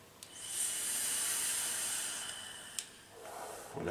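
A person exhales a long, steady breath of e-cigarette vapour from a 12 mg direct-to-lung vape, producing a close, soft hiss that lasts a couple of seconds and then fades into a quieter breath.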